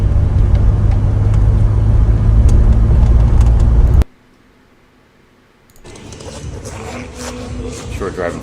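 A late-VIN DeLorean drives along, its engine rumbling steadily up close, then cutting to near silence before the engine and road noise return at a lower level.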